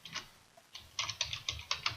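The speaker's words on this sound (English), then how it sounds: "Simply type the comment in the space provided." A computer keyboard is typed on in short bursts of clicking keystrokes, close and clear. After a brief pause, a faster steady run of taps follows.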